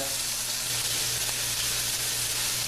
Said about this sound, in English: While the onions are kind of cooking, you're going to go ahead and just saute them with the salt and pepper base that I have